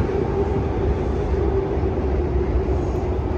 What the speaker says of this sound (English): For the train to pass real quick.